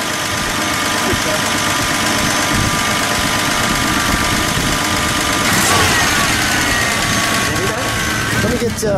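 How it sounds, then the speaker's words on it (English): A 1972 Plymouth Valiant Scamp engine runs at a steady, slightly raised idle, a continuous mid-pitched hum with a brief rev-like surge partway through, close by. "It sounds like you got a little high idle."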